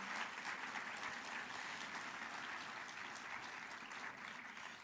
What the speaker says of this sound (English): how about one more round of applause for all the speakers